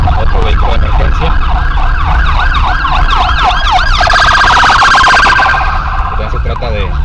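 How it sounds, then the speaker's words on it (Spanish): An emergency vehicle siren passes loud and close on a fire department patrol route, wailing in steady sweeps before switching to a faster yelp partway through. "Vamos a dar paso a que pase otro vehículo de emergencia."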